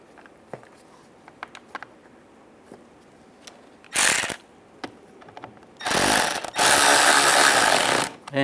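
A ratchet wrench clicks in quick bursts, tightening the screws on a heater core cover inside a 2007-2013 Chevrolet Silverado, with scattered small clicks and taps between the louder ratcheting runs.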